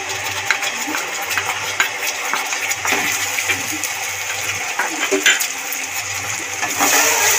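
A spoon or spatula stirs mustard paste into bhola fish curry in a metal pan, giving repeated light clinks and scrapes against a steady background hiss.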